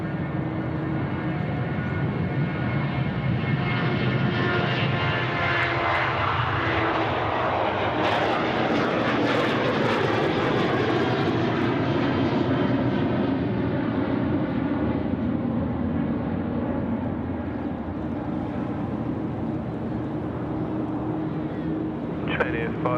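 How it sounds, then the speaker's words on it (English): A Virgin Boeing 737-800 takes off from Sydney Airport, its engines spooling into a loud, continuous roar that sweeps in pitch as it passes close by, with a voice talking over the noise. "Here we go, the Virgin 737-800 now, rolling runway right."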